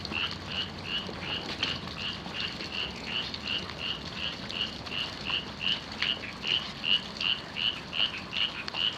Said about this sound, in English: The crickets are just really rocking.